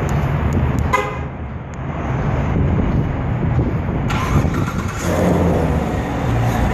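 A 2016 Chevrolet Corvette Stingray engine runs close by with a loud, deep, steady rumble that surges again toward the end, with no talking.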